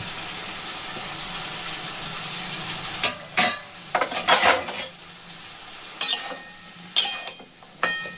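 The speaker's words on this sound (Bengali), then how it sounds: "কিলো টমে মানে মটরশুঁটি দিয়ে দিলাম আলুগুলোকে" Potatoes and peas cook in a pan under a soft background sizzle, broken by sharp clanks and scrapes of a metal spoon stirring against the pan in irregular bursts.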